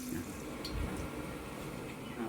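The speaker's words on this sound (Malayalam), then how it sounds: "കഴുകാൻ വെള്ളം ഒഴിക്കുക" Water poured over proso millet to wash it before soaking, a steady close splashing flow that runs alone for about two seconds.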